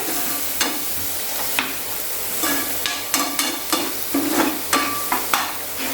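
Spices with red chilli and garam masala are stirred and fried in a pan for an egg curry. A spoon scrapes in repeated strokes over a steady low sizzle. Nobody speaks.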